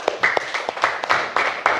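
Classroom applause for group 1 at an elementary school: a short burst of quick, uneven hand claps from a small group, close and sharp, lasting under two seconds.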